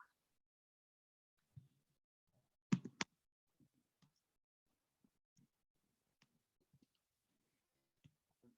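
Sparse, faint clicks and taps of typing on a keyboard in a quiet room, irregular single keystrokes with one sharper cluster of louder clicks near the start and long silent gaps between.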